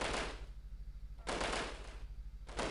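Enemy gunfire in the Delta Force video game, three bursts of rapid automatic shots, each a dense rattling volley, separated by short lulls of faint background.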